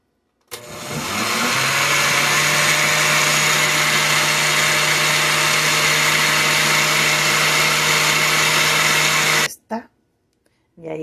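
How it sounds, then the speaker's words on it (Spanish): A kitchen blender whirs for about nine seconds, mixing a banana, strawberry and peanut butter shake. The motor drone is loud and steady from start to stop, then cuts out abruptly. "Entonces ahora vamos a tapar y vamos a licuar."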